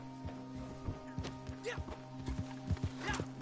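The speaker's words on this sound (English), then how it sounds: "There goes his horse." A horse in a video game clops along with steady hoofbeats and gives a whinny, while someone talks over the game's sounds.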